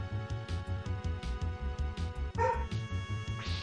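A dog barks again and again in a steady, fairly loud rhythm close by, with other sounds running underneath.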